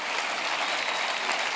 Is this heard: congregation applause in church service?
yes